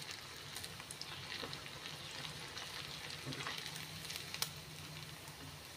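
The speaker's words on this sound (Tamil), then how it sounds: "பீஃப் நீங்கள் நைஸாக கட் பண்ணிங்கன்னா சீக்கிரம் பொரிஞ்சிரும்" Finely cut beef pieces fry in a pan with a soft, continuous sizzle and crackle, faint and even throughout, with occasional small pops and no talking.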